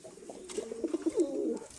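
A yellow Bombay pigeon hen, held in hand at a home pigeon loft, gives a soft, close series of low rolling coos over about a second, with no talk.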